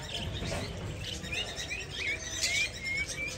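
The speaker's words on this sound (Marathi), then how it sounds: "तो पोपट बघ" Faint, scattered parrot chirps and short whistled calls at Indore Zoo, over steady background noise, coming from some distance.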